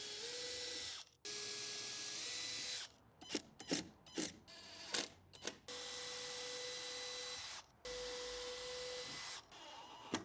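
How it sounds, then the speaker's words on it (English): A power drill whirs in several sustained bursts while fastening a piece inside a car being converted to a camper, broken by a stretch of short, choppy mechanical clicks and knocks in the middle. "I gotta drill this piece in to here so it doesn't move."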